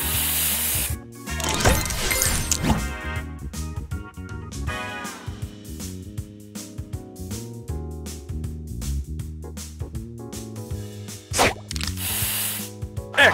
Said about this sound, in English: Spray on!